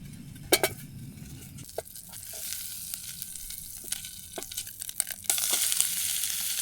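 Butter frying in a pan outdoors in a Norwegian winter hisses and sizzles close by, with clinks and scrapes from handling the pan and a louder burst of sizzle toward the end.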